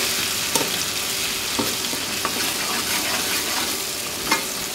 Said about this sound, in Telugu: ఈ అల్లం వెల్లుల్లి పేస్ట్ పచ్చివాసన పోయే వరకు ఈ విధంగా ఫ్రై చేసుకోవాలండి